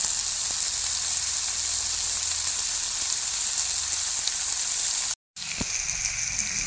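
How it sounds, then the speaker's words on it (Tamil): Fish fries in a pan of hot oil, a steady close hiss and crackle of sizzling that runs throughout, broken only by a brief cut near the end. "பார்த்தீங்களா எவ்வளோ அருமையாக பொரிஞ்சுக்கிட்டு இருக்குன்னு பாருங்கள்"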